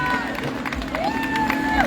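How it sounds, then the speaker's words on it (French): Crowd at a beer and food festival contest applauding and cheering, a busy mix of clapping, shouts and babble with voices talking over it. "Hey, on l'applaudit."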